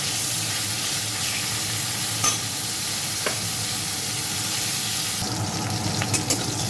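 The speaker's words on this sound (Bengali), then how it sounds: "এই তেলের মধ্যে এখন আমি ফুলকপিটা ভেজে নেব।" Cauliflower florets frying in hot oil, a steady dense sizzle with occasional stirring scrapes and soft clinks, close and continuous throughout.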